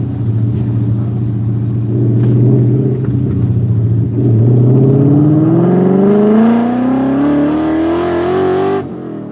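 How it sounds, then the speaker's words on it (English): Ford Cobra with a swapped Coyote engine revving hard while driving, a loud close roar climbing steadily in pitch through a long pull before cutting off abruptly. "you can hear the RPMs like rah, rah, rah"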